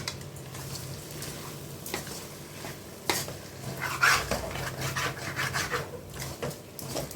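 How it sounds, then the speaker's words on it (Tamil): Quail gravy stirred after rock salt is added, a low sizzle under repeated rubbing and scraping strokes of a spoon against the pan, growing busier toward the end, no voices. "இப்போ கல் உப்பு சேர்த்து நல்லா மிக்ஸ் கொடுத்துக்குருவோம்"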